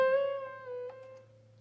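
A Casio CT-X5000 keyboard with pitch bend range set to 1 sustains a single bright tone that bends slightly in pitch partway through before settling and fading, heard alone.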